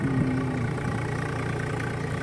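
A tractor engine idles steadily beside a paddy field, with a low, even rumble and a faint knocking pulse throughout, close by with no speech.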